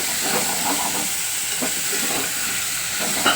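Chopped tomatoes sizzle in a pan as they cook for a curry, a steady hissing fry with faint soft crackles and occasional light stirring sounds.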